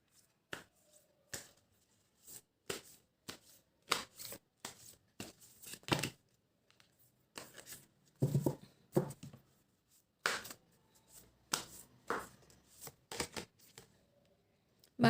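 A deck of playing cards shuffled and drawn during a tarot-style pick-a-card reading, a series of sharp close riffles and flicks in short bursts separated by quiet gaps, no talk.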